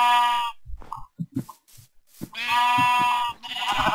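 Sheep in Minecraft bleat in three long, wavering cries with brief pauses and game sounds between them, clear and close with no talking.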